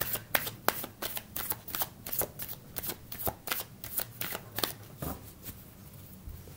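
A deck of tarot cards is shuffled close by, with quick repeated riffling slaps and flutters in an uneven rhythm that continue for several seconds with no talking.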